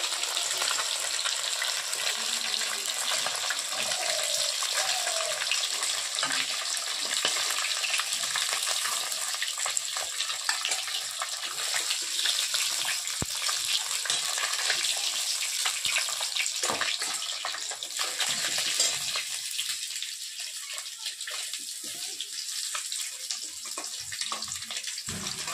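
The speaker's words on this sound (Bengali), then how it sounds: "বাকি 3টে পিসে ভেজে নেবো একই রকম ভাবে" Pieces of katla fish frying in oil in a pan, a steady bright sizzle and crackle close up that eases slightly toward the end, with occasional stirring noises.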